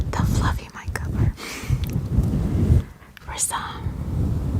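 A fluffy microphone windscreen rubbed up close produces deep, rumbling, thunder-like swells with low crackly friction, continuous with brief dips, alone without speech.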